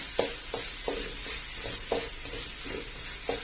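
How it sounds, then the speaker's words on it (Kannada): Ground masala paste frying in oil in a pan for mango chitranna, with a steady sizzle and rhythmic scrapes and stirs of a spoon roughly every half second, close up with no talking. "ರುಬ್ಬಿಟ್ಕೊಂಡಿರುವಂತಹ ಮಸಾಲೆಯನ್ನು ಹಾಕೊಳ್ಳೋಣ ಒಂದು ನಿಮಿಷ ಇದನ್ನು ಎಣ್ಣೆಯಲ್ಲೇ ಫ್ರೈ ಮಾಡ್ಕೊಳ್ಳೋಣ"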